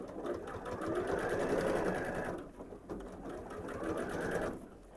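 Sewing machine running steadily as it stitches a Christmas tree fabric panel, a continuous close mechanical whir with a brief pause midway before resuming, no talk.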